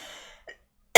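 A single sharp, loud cough bursts out at the very end, after a stretch of fading voice and a brief throat sound.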